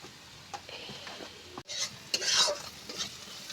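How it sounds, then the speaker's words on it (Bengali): Onions fry in a pan, a soft steady sizzle broken by scraping stirs and one louder hissing burst near the middle. "পেঁয়াজটা আমি ভালো করে ভেজে নেবো"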